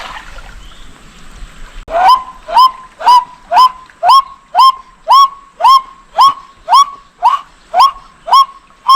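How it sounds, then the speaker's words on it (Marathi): An Asian koel calls over and over, about a dozen loud rising whistled notes at a steady pace, after a couple of quiet seconds at the start. "कोकिळाने आवाज देतोय का आपल्या इकडे"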